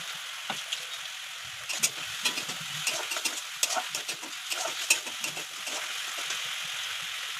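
Ground spice paste fries and stirs in a pan, a soft steady sizzle broken by scraping spoon strokes and small clatters, fairly quiet and close with no talk.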